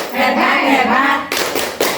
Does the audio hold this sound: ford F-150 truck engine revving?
no